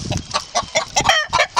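A chicken clucks loudly and repeatedly in quick, choppy bursts, close by.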